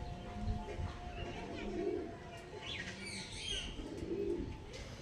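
Domestic pigeons coo softly and chirp near a man offering them for sale, low repeated coos with a few higher calls over steady background chatter and voices.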